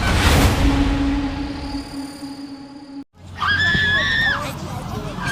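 A young girl screams in an animated horror film: a shrill, wavering cry that rises and falls for about a second over a steady background hum, after a brief hush.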